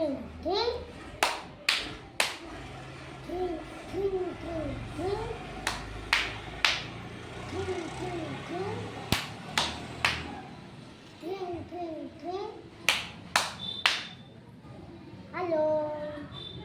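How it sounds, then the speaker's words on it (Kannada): A group of schoolchildren perform a rhythmic classroom clapping routine, sharp claps in quick pairs and clusters spaced across the stretch, with children's chanting voices rising between them. "ಎರಡನೇ ಟೈಪ್ ಚಪ್ಪಾಳೆ ಕ್ರಿಂಗ್ ಕ್ರಿಂಗ್ ಚಪ್ಪಾಳೆ"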